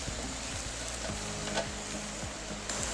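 An egg fries in a pan with a dense, even sizzle and crackle that holds steady throughout, close up and fairly loud, with no talking.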